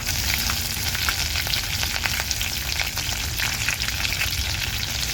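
Garlic and three finely chopped green chillies fry in hot oil in a pan for a wild mushroom bhaji, giving a dense, continuous, close crackling sizzle throughout.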